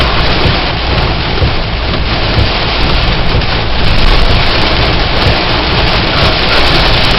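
A very heavy thunderstorm over Pittsfield, Massachusetts, with dense, loud, continuous rain pounding surfaces and deep rumbles of thunder rolling underneath, a steady roar throughout without speech.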